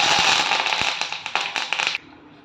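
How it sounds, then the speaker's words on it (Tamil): Sharp crackling pops burst rapidly and densely as mustard seeds sputter in hot oil, then cut off abruptly into quiet. "கடுகு கடுகு நல்லா பொரிஞ்சிருச்சு"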